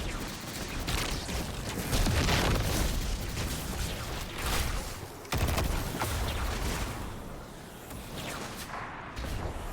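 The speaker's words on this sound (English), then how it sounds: "If all the hobgoblins are shooting you" Hobgoblins shooting at the player in the Destiny video game, dense continuous gunfire with booming impacts and bursts blending into a loud, busy barrage.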